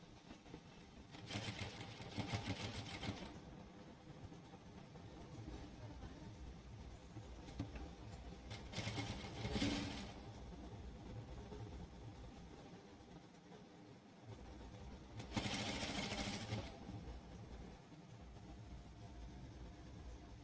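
Domestic sewing machine stitching fine piping onto a blouse, heard in three short bursts of rapid mechanical whirring separated by quieter pauses.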